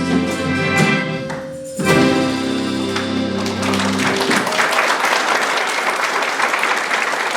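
An accordion orchestra finishes a medley of Italian melodies with held chords, and the audience bursts into loud, sustained applause that continues alone after the music ends.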